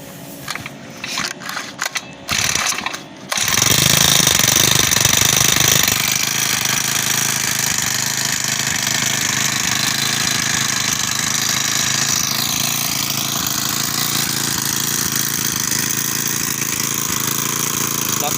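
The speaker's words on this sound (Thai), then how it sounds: "แล้วทดลอง สตาร์ท ให้ คุณลูกค้าได้ชมนะครับ" Second-hand Honda GX35 four-stroke brush cutter engine is pulled to start with a few rattling pulls, then catches and runs with a loud, steady buzzing idle close by, no talk.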